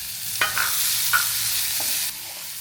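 Crushed spices dropped into hot oil for rasam, sizzling loudly in a pan while a spoon scrapes and stirs in a few distinct strokes, close and steady, no voices.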